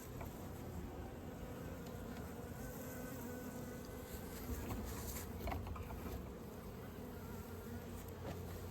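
Honeybees in a horizontal hive holding a month-old package colony building wax, producing a steady, dense buzzing hum close by that holds evenly for the whole stretch with no talking.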